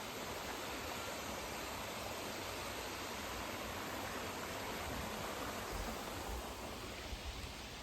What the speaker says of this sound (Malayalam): ആ വെള്ളം ഇങ്ങനെ പാറമേ തട്ടി ഒഴുകുന്നതിന്റെ സ്വരം